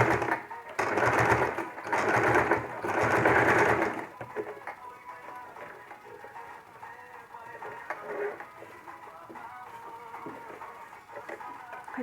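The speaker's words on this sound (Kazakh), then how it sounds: "Тігіп шығамыз." Domestic sewing machine stitching layers of gold brocade and fabric into a patchwork piece, a steady mechanical whir in three bursts during the first four seconds, then quieter handling sounds follow.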